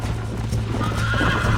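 A horse in the video game Red Dead Redemption 2 gives a loud whinny over a run of clip-clopping hooves, close and continuous through the short burst, with no talking.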